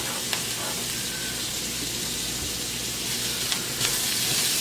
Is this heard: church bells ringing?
no